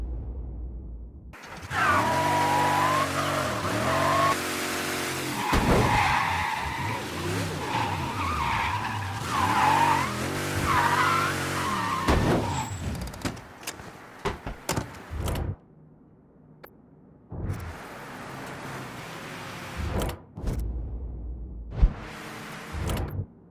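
A car in the game Mafia 3 drives up with its engine revving and its tires squealing in long skids, then comes to a stop, followed by a few sharp door-like thumps.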